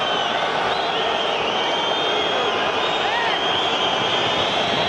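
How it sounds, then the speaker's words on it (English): A rugby stadium crowd at a 2004 France versus New Zealand test match whistles steadily and loudly, a sustained high shrill wash of many whistles over a constant roar with no clear breaks. "Not sure why the crowd is whistling."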